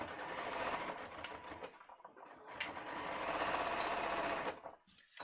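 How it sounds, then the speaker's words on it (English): A sewing machine stitches a dress lining in long continuous runs with brief pauses, the motor whirring steadily close by before stopping near the end. "Okay, so we're just going to sew this"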